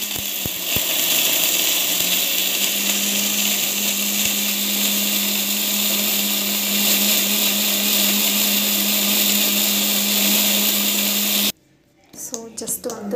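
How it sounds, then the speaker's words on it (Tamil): A mixer grinder whirs loudly and steadily as it grinds soaked almond gum, a sustained motor drone that cuts off abruptly near the end, followed by faint clatter and a voice. "நான் வந்து மிக்சியில் வந்து போட்டு போகிறேன்"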